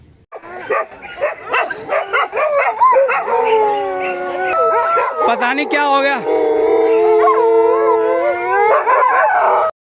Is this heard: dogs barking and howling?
yes